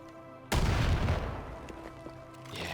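Remote-detonated sticky explosive blowing up in Far Cry 5, one sudden loud boom with a rumbling tail that fades over two seconds, with scattered game sounds after.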